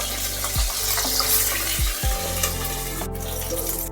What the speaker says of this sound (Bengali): বাকি মাছগুলো এইভাবে ভেজে নিতে হবে।